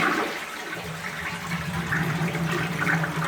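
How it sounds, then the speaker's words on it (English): Toilet flushing, a loud continuous rush and swirl of water close by, steady throughout with no talking. "let's go flush the toilet"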